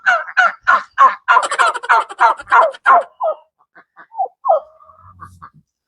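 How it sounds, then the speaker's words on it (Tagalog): Loud, rapid gobbling calls from turkeys in a steady burst, then scattered quieter squawks and clucks from chickens and ducks nearby in the morning. "Mga manok, turkey at saka duck, masyadong maingay in the morning"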